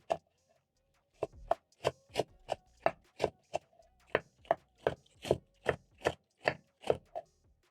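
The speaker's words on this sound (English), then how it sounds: "And we are chopping the cabbage medium size." A sharp knife shreds cabbage on a cutting board in a run of about sixteen crisp, evenly spaced chops, close and clear against a quiet room after a brief silent start.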